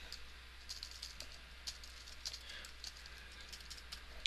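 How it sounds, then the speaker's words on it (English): Quiet, close tapping of fingers typing on a computer keyboard, short irregular bursts of keystrokes over a low background hum. "Let me just type it in."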